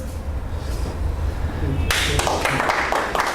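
Audience applause for a professor closing a lecture on radiological protection in medical uses of ionizing radiation: quiet room tone at first, then scattered, moderately loud claps break out halfway through and continue irregularly.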